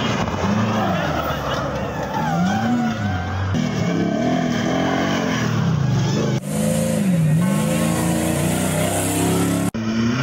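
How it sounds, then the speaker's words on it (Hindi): Jeeps race across light desert terrain during the third stage of the 8th Thal Jeep Rally, with steady engine revving and rising and falling pitch as vehicles accelerate, heard continuously and loud under a voice talking throughout. "हल्के सहराओं में गाड़ियों की दौड़। 8वीं थल जीप रैली का तीसरा मरहला।"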